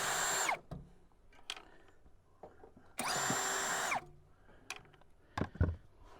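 Two loud bursts of a power drill spinning out screws from the access panel of a Coleman Mach RV air conditioner, each lasting about half a second to a second, separated by soft handling clatter and small knocks.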